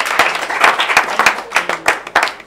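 A round of applause from an audience at a program event, with brisk individual hand claps sounding close and fairly loud in an uneven, sparse rhythm, and no talking over it.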